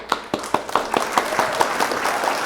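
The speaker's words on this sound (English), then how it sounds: "I will clap for myself" One person clapping alone for himself after passing a $50,000 FTMO funded trading challenge, about a dozen sharp, evenly spaced hand claps close to the mic with no talk.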